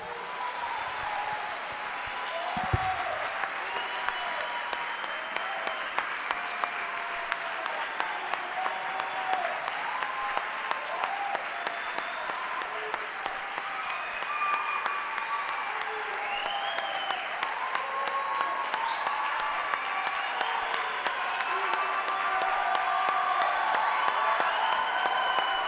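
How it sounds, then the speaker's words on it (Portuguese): A church congregation applauds during a sermon. Long, sustained clapping with cheers and whoops rising through it, a full room of people, some voices calling out, and the sound swelling slightly toward the end. "Uma salva de palmas para Jesus."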